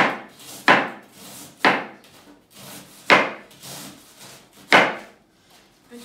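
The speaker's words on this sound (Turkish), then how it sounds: "Lahanamızı küçük küçük doğrayalım." Cabbage being chopped with a knife on a wooden board for pickling, four or five distinct crisp thuds spaced about a second apart, close and clear with no talking.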